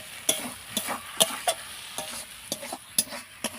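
Taro stolons cooking with mustard paste in a pan, stirred with a utensil that scrapes and taps in a steady rhythm over a constant, close sizzle.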